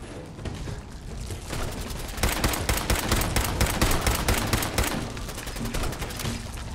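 Rapid automatic gunfire from a pipe auto pistol in the video game Fallout 4 crackles in a dense, continuous stream of shots, loud and close, lasting several seconds without speech.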